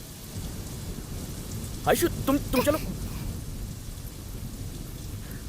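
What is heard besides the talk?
rain in a thunderstorm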